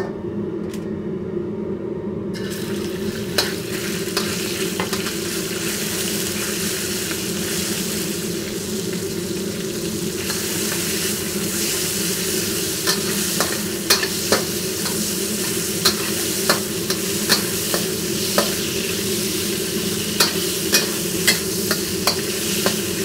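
Meat frying in hot oil in a wok gives a loud, continuous sizzle for over twenty seconds, with sharp little ticks and spatters growing more frequent toward the end and no talking.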